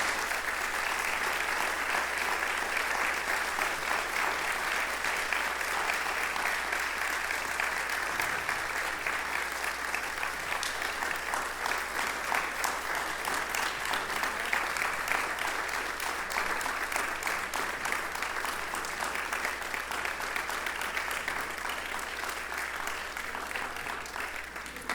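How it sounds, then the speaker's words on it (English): Sustained applause from an indoor audience for a panel of speakers at an MLK birthday observance event, a dense, steady clapping that holds at an even, fairly loud level for the whole stretch with no talk over it. "let's give them one more round of applause"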